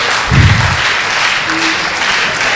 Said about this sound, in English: Please let's keep the applause going.